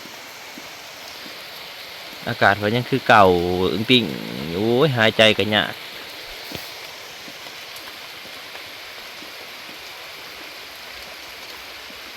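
The year's first rain pours down in a steady, broadband hiss that runs throughout, with someone speaking for a few seconds near the start over the falling water.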